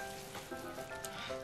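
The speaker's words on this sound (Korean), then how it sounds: "자, 이제 고기를 구워볼까요?" Steak searing in a hot oiled pan, a quiet continuous sizzle and crackle of frying beef, soft and close with no talking.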